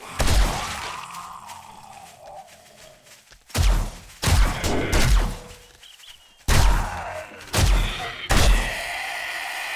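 Bursts of M60 machine gun fire in a video game, fitted with an extended barrel, arrive in three loud clusters of sharp shots with crashing impacts and quieter gaps between them.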